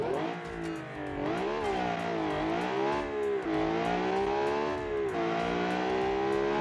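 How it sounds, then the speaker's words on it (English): A Ferrari-engined car revs hard and climbs through gears on an acceleration run, each pull rising in pitch before a brief drop, loud and close with a steady roar. "let's see how this Ferrari super fast engine will do"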